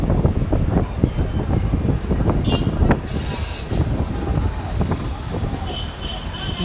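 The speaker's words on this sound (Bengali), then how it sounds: "সকাল 5:30টার সময় রামপুরহাট স্টেশন থেকে ট্রেন ছাড়লো" The Mayurakshi Express pulls out of Rampurhat station in the early morning, with loud, steady rolling rumble and irregular metallic clanks and knocks from the carriages throughout.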